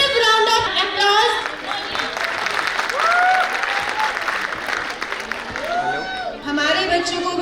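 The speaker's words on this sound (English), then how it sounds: "Can we have a massive round of applause?" An audience at a school annual function claps in sustained, dense applause, with a voice talking over the clapping.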